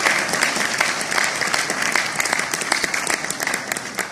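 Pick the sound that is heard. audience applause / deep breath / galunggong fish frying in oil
audience applause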